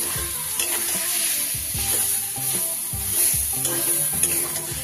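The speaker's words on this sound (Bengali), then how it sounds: "এইবার আমি বেটে রাখা ডালটা দিয়ে দেব" Ground lentil paste goes into radish frying in a pan, giving steady, close sizzling with scraping stirs throughout and no talking.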